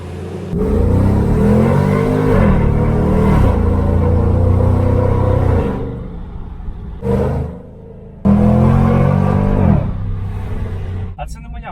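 A Chevrolet Camaro SS engine revs hard and accelerates, its rising roar sweeping up through the gears, easing briefly, then surging again close by, with voices heard over the engine noise.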